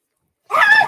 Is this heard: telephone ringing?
no